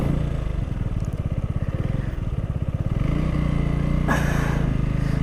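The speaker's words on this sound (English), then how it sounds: "So I'm just using throttle here, clutch I should say, and using back brake." Honda Valkyrie motorcycle engine running steadily under light throttle and clutch control on a road ride, a close continuous throbbing rumble with rhythmic pulsing, then a brief gust of wind noise near the end.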